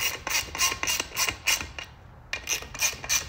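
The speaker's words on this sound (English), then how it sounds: "I snug them down with a 1/4-inch drive ratchet just to start with" A 1/4-inch drive ratchet snugging bead lock bolts on a RZR Pro R wheel with sand tires, giving a steady run of quick, close clicking strokes with a brief pause partway through.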